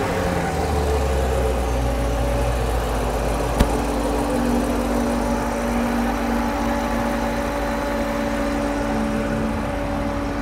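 A supercharged Corvette Z06 engine runs at a steady idle, with a deep, constant, close rumble throughout and one brief sharp tick partway in. No one speaks.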